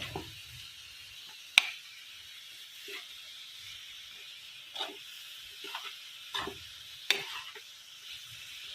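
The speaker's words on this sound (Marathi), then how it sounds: "याला सारखं फिरत राहायचं नाहीतर हे खाली लागते सारण" Jaggery modak filling stirred in a pan, with a spoon scraping now and then over a quiet steady sizzle and hiss, a few sharper knocks standing out.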